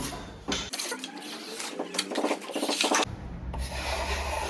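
A 30 cm drywall spatula rasps along a plasterboard joint, smoothing joint compound in steady scraping strokes, close and moderately loud, with brief gaps between passes.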